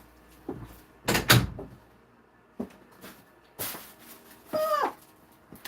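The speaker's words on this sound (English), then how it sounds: "Let me close this door to my nail room." A door closing to a basement nail room, with a few separate knocks and thumps spread out, moderately close, plus some faint squeaky sounds between them.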